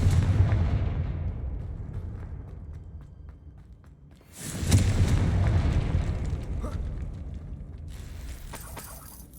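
A Confringo fire spell in the video game Hogwarts Legacy: a loud close booming blast that dies away, then a second burst near the middle with a rumbling tail and crackle.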